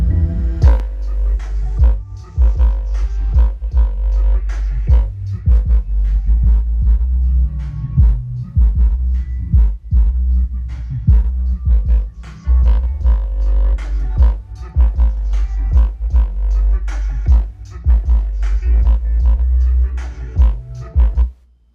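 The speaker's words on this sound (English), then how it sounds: "now let's replay the song with the 12-inch sub on" Deep song bass pumping through a 12-inch car subwoofer with an amplifier driven from a computer power supply, loud throbbing low thumps in a steady beat-driven rhythm, close and continuous until it cuts off at the end.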